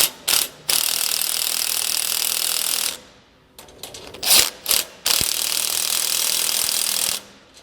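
A ratchet wrench tightens U-bolts on a utility trailer load bar, its loud rapid clicking coming in several bursts separated by brief pauses and shorter strokes, close up with no talking.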